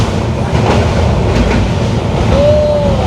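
Sikkim Mahananda Express running on the track through the Dooars forests between Alipurduar and Siliguri: a steady, loud rumble of wheels and carriages, with a brief metallic wheel squeal near the end.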